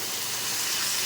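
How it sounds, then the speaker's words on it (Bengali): Hot water poured into a pan of pointed gourd, a steady broadband hiss and rush with a soft sizzle throughout, close and continuous, no talking. "পরিমাণ মতো গরম জল দিয়ে দিচ্ছি"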